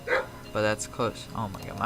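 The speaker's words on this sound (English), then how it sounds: "my dog's barking now" A pet dog barks in a home, giving several short yipping barks close by, mixed with someone talking over them.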